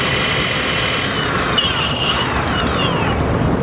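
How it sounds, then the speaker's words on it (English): Belt-driven motor of a Boosted Board electric skateboard at full speed, a steady loud broadband whir and rolling rumble with a faint high whine, continuous throughout with no talking. "The boosted board is so loud. Full speed, it sounds like this."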